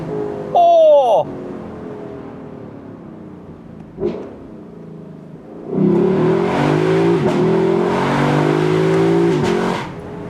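Lexus LC500 convertible's V8 revs loudly with the top down, a short sharp burst early on, a brief blip, then a long sustained climb and hold before easing off.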